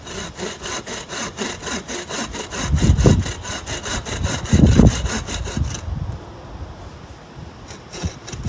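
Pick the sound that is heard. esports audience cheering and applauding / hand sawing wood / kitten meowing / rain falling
hand sawing wood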